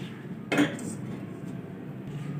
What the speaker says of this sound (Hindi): कढ़ाई चलाएंगे चूल्हे पर,